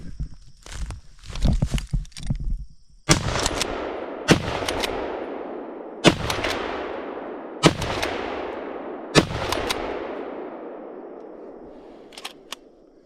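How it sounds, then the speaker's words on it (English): Five loud gunshots from a pump-action gun during hunting sight-in practice ring out at a steady pace, each with a long decaying echo, after some shuffling and handling noises at the start. "Five shots, you think I hit it?"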